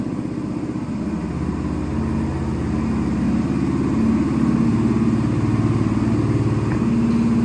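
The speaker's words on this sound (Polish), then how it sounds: "ten motocykl brzmi naprawdę fajnie" A 2013 Honda XL 125 Varadero motorcycle engine idles with a steady low putter, rising slightly in volume partway through, loud and close with no one speaking.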